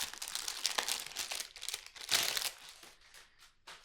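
A plastic zipper pocket insert for a stationery planner crinkles loudly and up close as it is handled, bursts of crackling rustle rising and falling with a sharp peak partway through and fading at the end.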